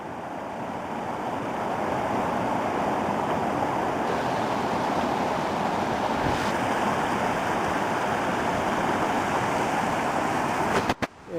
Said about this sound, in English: as you can see, there's one of the waterfalls.